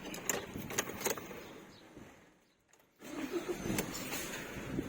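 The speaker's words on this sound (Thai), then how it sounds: "ทดสอบระบบสตาร์ทครับ" A Ford Ranger XLT cranks and fires up after a new immobilizer key is programmed, as the steady cabin noise dips to near silence and then the engine settles into a fuller running hum.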